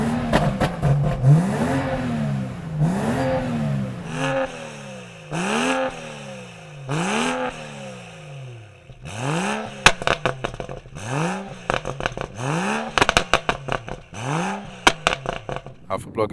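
A BMW M4 or 435i with a fitted downpipe revs repeatedly through its exhaust, each blip rising and falling in pitch with crackles between, roughly a dozen close, loud revs in a row.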